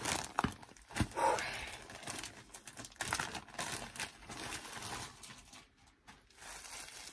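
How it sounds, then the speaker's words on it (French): A wig bought for under 40 euros is unwrapped from its packaging with close, irregular crinkling and rustling of plastic and paper, and a few soft sighs come through between the handling noises. "Et on va déballer la perruque."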